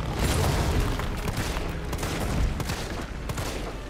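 Dense video-game gunfire rattles almost without pause, a loud, continuous fusillade of rapid shots layered with booms.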